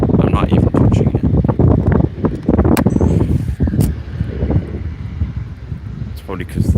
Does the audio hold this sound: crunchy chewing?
no